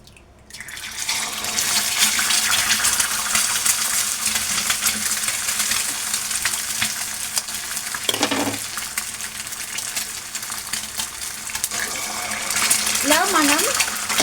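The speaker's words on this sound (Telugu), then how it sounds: "ఇలా మనం హై ఫ్లేమ్లో ఎగ్ అనేది ఫస్ట్ ఫ్రై చేసుకోవాలి ఫ్రెండ్స్" Eggs fry in hot oil over a high flame with a loud, continuous sizzle and crackle throughout, broken by one brief lower clatter partway through.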